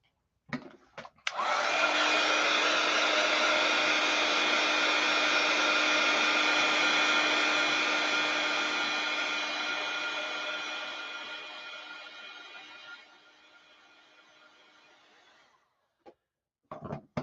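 A heat tool blows steadily on freshly stamped pigment ink, a loud, constant whirring hum that runs for about twelve seconds, then drops in level and cuts off, with brief handling clicks at the start and end.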